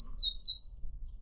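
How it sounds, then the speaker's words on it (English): Birds chirp outdoors with a few quick, high tweets, two close together and then one more after a short pause, faint against quiet background air. "love these birds."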